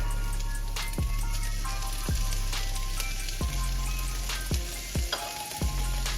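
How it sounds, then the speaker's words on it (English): A cup of onions and a teaspoon of garlic sauté in a pan for tacos, crackling and sizzling steadily up close, broken by several sharp clacks of a utensil striking the pan. "We're gonna go ahead and saute this together."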